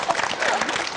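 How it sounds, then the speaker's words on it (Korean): A studio audience on a Korean TV talk show breaks into a brief, dense burst of clapping. "박수 한 번만 보내주세요"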